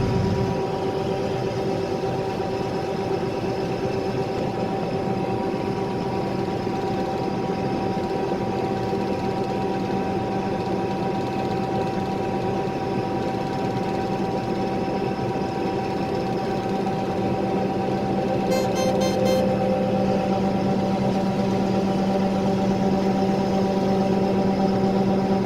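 A combine harvester's grain auger unloads wheat in an Alberta field, a steady mechanical whine and engine drone running continuously at close range for the whole stretch, with no voices.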